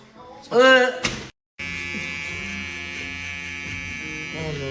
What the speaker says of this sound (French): Rasoir ou tondeuse? Rasoir.